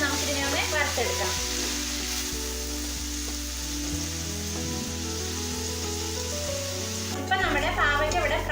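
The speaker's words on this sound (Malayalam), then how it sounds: "ഈ പാവയ്ക്ക നല്ല ക്രിസ്പായി വരുന്നത് വരെ നമുക്കിതിനെ ഒന്ന് വറുത്തെടുക്കാം." Sliced bitter gourd fries in hot oil in a pan for a Kerala sadya dish, a loud steady sizzle with stirring clatter at the start and end, no talking.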